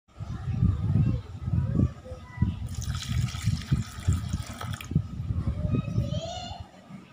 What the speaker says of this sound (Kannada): ಈಗ ಗಿಡಗಳಿಗೆ ನೀರು ಹಾಕ್ತೀನಿ